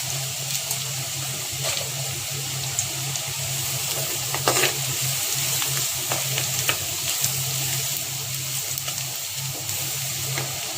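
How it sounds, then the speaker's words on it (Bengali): Chopped onions sizzle steadily in a mix of ghee and oil, a continuous close frying hiss with occasional stirring clinks and scrapes throughout, no voices. "ঘিটা একটু তেলের সাথে মিশাই দিলাম। পেঁয়াজ কুচিগুলো ব্রেস্তা করে নেব।"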